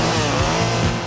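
A chainsaw revs loudly and close, its engine snarling steadily with brief surges in pitch, filling the whole second without any talk.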